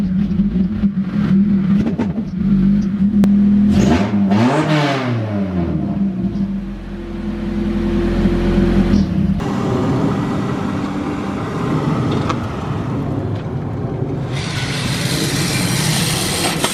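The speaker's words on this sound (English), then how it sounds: "let's get these freaking cars moved around." Cars are started and moved around inside a garage, with engines revving and whirring up and down, a loud pass around the middle, then a steady idle and rumble close by.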